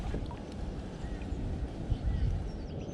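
Wind gusts over open water during urban kayak fishing, buffeting the microphone with a dense, low, continuous rumble for a few seconds.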